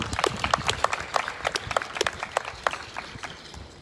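An audience at a Long Beach community budget press conference applauds, a thin scatter of claps and a few sharp individual hand claps fading over several seconds, fairly close.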